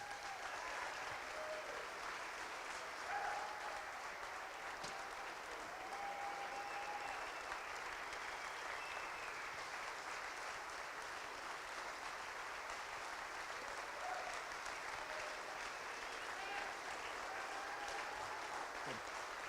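An audience at a sports luncheon applauds to welcome football coach Art Briles, a steady, continuous wash of clapping from a large crowd that holds evenly for about twenty seconds, somewhat distant and without speech.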